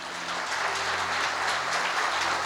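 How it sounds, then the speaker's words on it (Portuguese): A church congregation applauds during a sermon, with thick, continuous clapping heard throughout at moderate volume. "Aplauda o Senhor"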